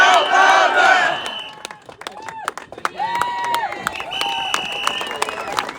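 At a rally standing with farmers, a crowd roars and shouts loudly at first, then scattered clapping and cheers continue with raised voices mixed in.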